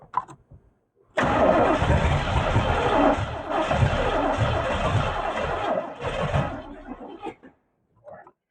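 A 32-year-old Chevrolet Camaro barn find cranks and fires up, settling into a loud, rough, close running engine for about six seconds before cutting off, with a few brief knocks around it.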